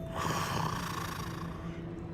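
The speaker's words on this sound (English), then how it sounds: "It's a snoring goblin." A goblin snores in the Hogwarts Legacy video game, a single faint, drawn-out snore with a rough snort-like breath that stays low in level.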